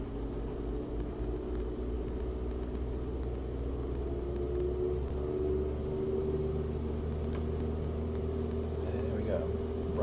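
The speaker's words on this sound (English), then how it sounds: "So just doing quick brakes on and engine run up." A Mooney light aircraft engine in the FSX flight simulator hums at a steady, moderate run-up drone with faint tonal whine, holding unchanged for the whole stretch.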